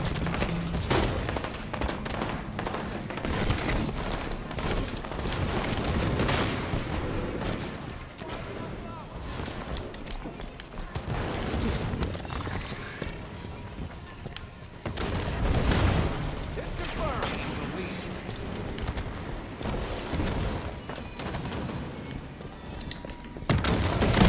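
Rocket launcher blasts and gunfire from a Halo 5: Guardians match, a dense barrage of booms and rapid shots running continuously with louder bursts, with people talking over it.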